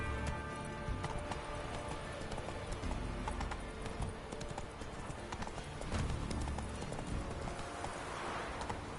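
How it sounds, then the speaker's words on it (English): Horse galloping in The Witcher 3, a steady loud clip-clop of hooves running continuously through the whole stretch over a dense game soundscape. "Run, Roach. Come on, Roach"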